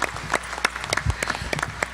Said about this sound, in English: Let's give our panelists a warm FAMU round of applause